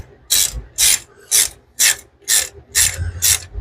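A ratchet wrench tightens a bolt on a cheap Honda Civic, giving seven evenly spaced bursts of clicking, each about half a second long. The clicks are close and loud, with a low rumble beneath and no talk.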